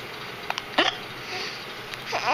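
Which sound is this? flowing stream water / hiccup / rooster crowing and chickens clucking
hiccup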